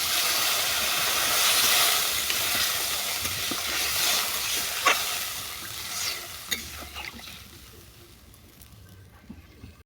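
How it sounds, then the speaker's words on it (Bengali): Rohu fish curry with bottle gourd and potato stir-frying in a pan, giving a loud, steady hissing sizzle with occasional stirring knocks that gradually fades quieter toward the end. "এবার এটাকে ভালো করে কষিয়ে নেব।"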